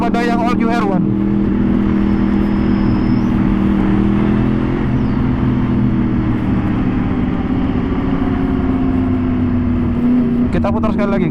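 A 2014 Yamaha R1 facelift motorcycle engine holds a loud, steady rev close by, climbing slightly in pitch and sustaining for several seconds, with brief throttle blips at the start and end.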